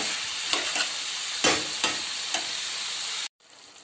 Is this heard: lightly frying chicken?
yes